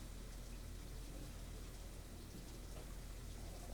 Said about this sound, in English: I think I hear rain.